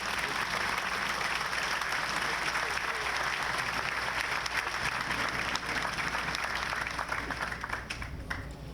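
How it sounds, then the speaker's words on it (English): An audience at a Memorial Day ceremony applauds in a steady, full round of clapping that carries on evenly and tapers slightly at the close. "Let's give them a round of applause."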